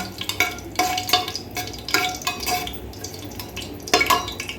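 Dried red chili, two bay leaves and lightly crushed whole garam masala frying in hot oil for a Bengali chicken curry, an intermittent sizzle punctuated by rhythmic bursts of stirring and utensil scrapes against the pot, close and loud.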